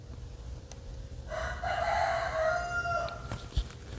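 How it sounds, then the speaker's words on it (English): A rooster crows once nearby, a drawn-out cock-a-doodle-doo over a steady low background hum, followed by a brief soft knock. "See, the rooster just answered that for you."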